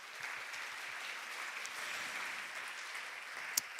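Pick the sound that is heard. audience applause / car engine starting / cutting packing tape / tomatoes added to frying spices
audience applause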